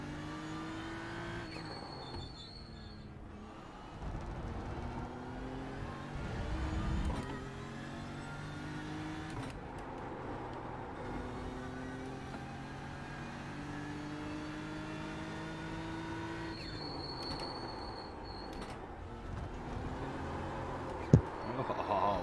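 A race car engine in the iRacing sim at Road America drones and shifts pitch as it accelerates and changes gear, with occasional brief tire squeal, steady and moderately quiet throughout.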